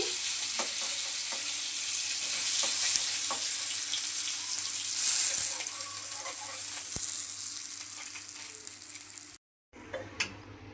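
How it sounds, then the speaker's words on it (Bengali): Fish fry in a pan with a steady close sizzle, occasional ticks and crackles, until the sound cuts out briefly near the end and then resumes. "মাছগুলো লাল করে ভেজে নিচ্ছি"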